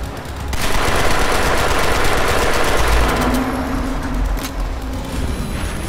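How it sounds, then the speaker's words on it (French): Rapid, loud bursts of gunfire from a pistol in the Crysis 3 shooter game, dense repeated shots over a mechanical background, with a brief pause before firing resumes. "le bruit du pistolet."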